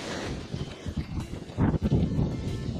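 Gusty outdoor wind buffeting the microphone while metal detecting for old coins, a loud rumbling roar that swells and dips irregularly throughout.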